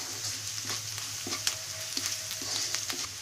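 Browned onions with turmeric and salt are stirred in a pan for a beetroot sabzi, producing a gentle sizzle under a few soft scrapes and taps of the spoon, with a low hum in the background.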